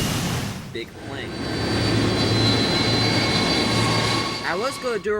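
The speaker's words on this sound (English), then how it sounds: "Big plane." A large aircraft in the Metal Gear Solid 3: Snake Eater video game roars overhead with a loud, sustained jet-engine drone that swells and holds, with brief voices near the start and end.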